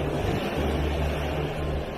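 Sea water washing onto a sandy beach in Mauritius, a steady close rush of surf with wind buffeting the microphone, continuous and fairly loud with no voices.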